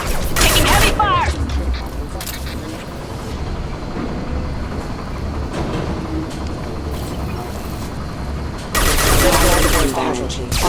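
Heavy automatic gunfire rattles in dense bursts during a Mass Effect firefight, loud and sustained, with sharper blasts at the start and end over a continuous roar of combat.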